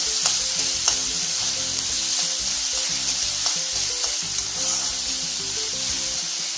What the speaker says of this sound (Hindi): अब हम इसे तेज आंच पे भूनेंगे।